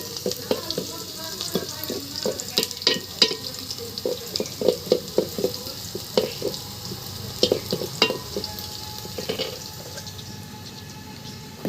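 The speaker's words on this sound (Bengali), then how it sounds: "এখন আস্তে আস্তে বাটা মশলা দিয়ে দেব, আর একটু ভাজা ভাজা হোক।" Ground spice paste frying in a pan with garlic and beef gives a steady sizzle, broken by frequent scraping and clattering stirs in an uneven rhythm, close and fairly loud.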